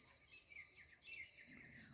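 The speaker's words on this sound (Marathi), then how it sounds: "आणि किती छान पक्ष्यांचा किलबिलाट" Soft chirps and tweets from small birds and an occasional koel at 6:30 in the morning over a steady high insect-like trill, faint and outdoors, with no voices.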